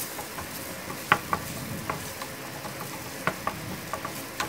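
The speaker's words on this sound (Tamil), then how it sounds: "ஆட் பண்ண பிறகு இப்போ நான் நல்லா மிக்ஸ் பண்ணிக்கிறேன்." Dragon chicken pieces coated in tomato ketchup are stirred in a pan with a soft, continuous low sizzle, punctuated by a few sharp spoon clicks and scrapes against the metal; no voices.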